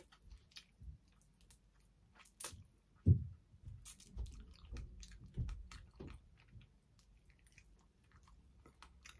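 Someone eating nearby chews food with soft, wet, irregular mouth sounds and an occasional louder bite, quiet and close, with pauses between the chews.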